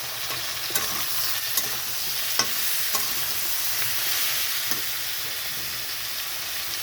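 Vegetables being fried and stirred in a pan for kosh shaak chorchori, a steady, close sizzle running throughout with occasional scrapes and clicks of the spatula against the pan.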